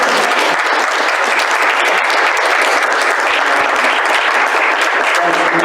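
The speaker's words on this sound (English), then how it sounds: "maybe we could have a round of applause for Dr." An audience applauding at a community gathering, sustained dense clapping from many hands at close range, loud and even across the whole stretch with no pauses.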